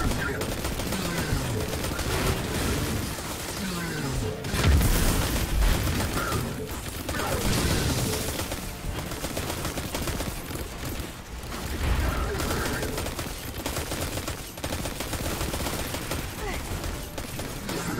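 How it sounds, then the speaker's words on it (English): Gunfire in the video game Destiny 2: sustained rapid shooting and bursts layered with booming impacts and game effects, dense and continuous throughout, with a voice talking over parts of it. "Why are you shooting so little? Are you low on bullets or saving them just for fun?"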